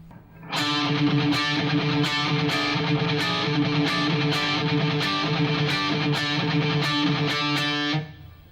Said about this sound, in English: Now there's a really cool second guitar that's overdubbed.